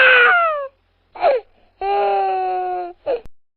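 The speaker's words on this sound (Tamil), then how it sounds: "அங்க ஏதோ ஒரு குழந்தை அழுவுற மாதிரி சத்தம் கேட்டுச்சு" A baby cries in an animated Tamil bedtime story, the sound coming from a field where a cow is grazing. Two long, wavering wails alternate with two short sobs, loud and close, with no talk.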